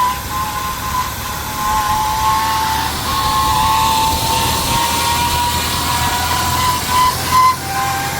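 Car engine running with an abnormal noise, revving up to high RPM; a steady, loud, continuous mechanical drone with a whine throughout and a brief bump near the end, no talking.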